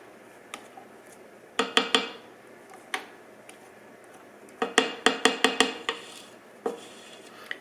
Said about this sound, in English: Let me pop the mixer off here.